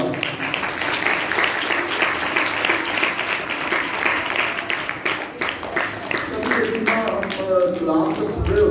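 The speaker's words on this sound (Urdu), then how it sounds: "شاباش آپ سب کو اپنے لیے زوردار تالی بجائیں گے" Loud, dense applause from a Sunday Mass congregation at St. Anthony's church, sustained claps filling the space, with voices chattering underneath.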